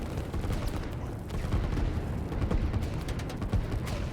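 Artillery firing in the video game Line War: a dense, continuous barrage of booming shots and rumbling blasts overlapping without pause.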